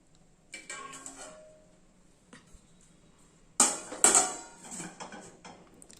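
A metal lid closes onto a steamer pot of Kerala steamed rice cakes, with light metallic clinks first, then a loud sharp clatter and rattle as it settles, close by.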